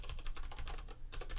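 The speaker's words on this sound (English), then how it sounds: "And I'll just type in," Rapid clattering keystrokes on a computer keyboard while entering a mail server address into a login field, a steady close run of clicks that continues for the whole stretch with a brief pause near the end.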